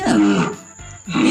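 A bear's roar sound effect, a single loud growling roar that fades in the middle before a second strong burst, heard alone without talk.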